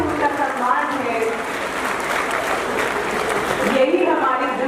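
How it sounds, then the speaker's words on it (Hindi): Loud, sustained applause fills the hall as guests are honored with a turban at a women's gathering, a broad wash of clapping with voices calling out over it. "जोरदार तालियों से"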